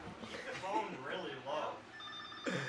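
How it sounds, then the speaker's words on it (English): A telephone rings with a bright, shrill electronic tone that starts near the end, while people chat over a faint room background. "that's totally that phone."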